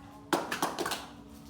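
Children clapping together in an elementary classroom clapping game, a sudden burst of several quick, slightly ragged claps in a short run, fairly close and clear, with no speech over them.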